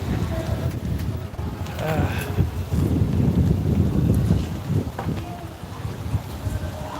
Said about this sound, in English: It's like that wind's kicking up a little bit.